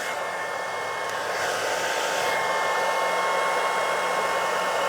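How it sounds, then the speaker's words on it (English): A secondhand hair dryer picked up from a charity shop runs with a loud, steady airy roar close by and alone, with no talking. "I'm not going to muck around with the hair dryers"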